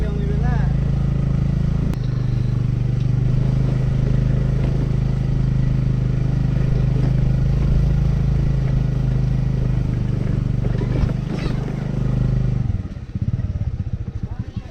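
A scooter rides along a rough, wild dirt road near Dhading Besi in the rainy season, its engine droning steadily and close with rattling clatter, then cutting out near the end.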